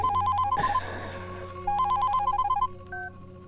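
An old-style telephone rings in a doctor's setting in a Marathi film, with two bursts of rapid trilling bell tones separated by a short pause and then a brief final electronic tone, all clear and close.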